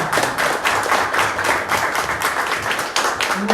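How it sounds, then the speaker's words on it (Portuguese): A church congregation at a Baptist service claps together in a dense, steady round of applause at close range, with no talk over it. "Pode bater palmas."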